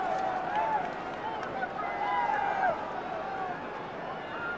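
Crowd noise from a lively crowd at an Australian football match at Subiaco, Fremantle against Essendon on a fine day, with a steady murmur of the stands and rising cheers and whistles throughout.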